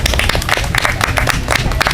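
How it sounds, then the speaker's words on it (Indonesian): Crowd applause at an environmental volunteer social-service event for a university law faculty, dense and steady clapping through the whole stretch with sharp individual claps standing out. "tepuk tangan dong untuk Smart Garden"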